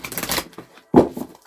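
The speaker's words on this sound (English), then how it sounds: "Okay, one more shuffle." A deck of oracle cards is shuffled by hand close up, giving two quick papery riffles separated by a short pause.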